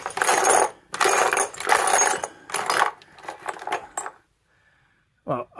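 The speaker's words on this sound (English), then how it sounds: "So here's all my random sockets." Loose metal sockets clatter and jingle as a hand rummages through a pile of them, in several bursts of close, bright metallic rattling followed by a pause and a final short clink.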